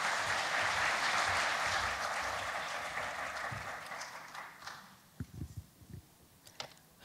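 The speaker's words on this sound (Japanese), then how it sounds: "どうぞ皆様盛大な拍手でお迎えください" Applause from a conference audience at AWS Summit Tokyo 2016 as a speaker is welcomed: dense, sustained clapping that gradually thins and fades, ending in a few scattered, distinct claps.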